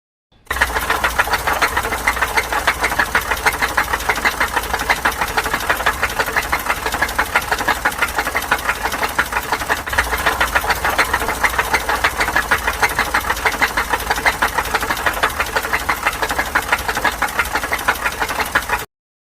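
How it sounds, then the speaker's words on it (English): A running engine knocks from worn connecting rod or main bearings, a steady, rapid metallic tapping that continues evenly throughout, loud and close. "Knocking connecting rod or main bearings."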